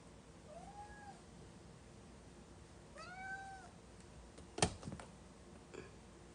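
A skittish pet cat meows softly indoors, one short call followed by a longer rising meow, then a sharp click or bump, quiet and close with no speech.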